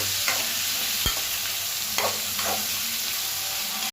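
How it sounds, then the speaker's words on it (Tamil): Tomatoes fry in hot oil with chilli and turmeric for a spicy tomato curry, giving a close steady sizzle broken by a sharp utensil clink and soft scraping stirs. "தக்காளி போட்டு நல்லா ஃப்ரை பண்ணிக்கோங்க."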